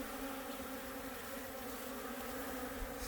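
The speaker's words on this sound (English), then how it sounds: "Some bees coming in and out." Honeybees fly in and out of a hive entrance in winter, making a steady, close, continuous buzzing drone that holds evenly throughout with no talking.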